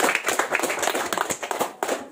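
Junior high schoolchildren in a classroom clap their hands together, producing a busy, uneven patter of close, sharp claps that runs throughout. The clapping is fairly loud and heard alone, with no talking.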